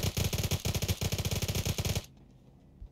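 Rapid automatic gunfire in the video game PUBG during a car chase, a loud, tightly spaced burst of about two seconds that stops abruptly, leaving quiet background sound.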